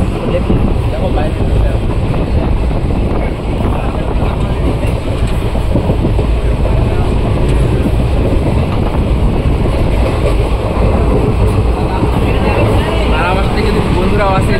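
Express intercity train between Balurghat and Gangarampur running at high speed, heard from inside the carriage as a loud, continuous rumble and roar with steady wheel rattle throughout, no pauses.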